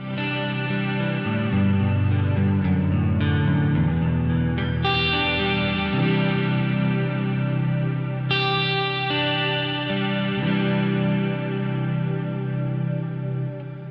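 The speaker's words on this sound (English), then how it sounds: "It creates standard effects chains like an overdrive into a chorus," A guitar runs through an overdrive, chorus and delay chain on a Moog Messenger synth, with shimmering chorus and echoing delay, sustained chords ringing loud and continuous.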